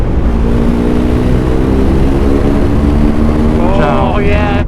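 A BMW GS Adventure motorcycle pulling a sixth-gear roll-on, a loud close engine drone rising steadily in pitch through the whole stretch, with wind roar mixed in.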